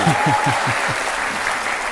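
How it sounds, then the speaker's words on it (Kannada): Big round of audience applause for host Rajat Sharma in the TV courtroom show Aap Ki Adalat, a steady wash of clapping with music tones underneath. "ರಜತ್ ಜಿ ಅವ್ರಿಗೋಸ್ಕರ ಒಂದು ದೊಡ್ಡದಾಗಿ ಚಪ್ಪಾಳೆ"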